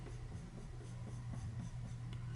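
Soft, quick flicking strokes of a colored pencil on paper while shading a bird's wings, faint and close over a steady low hum.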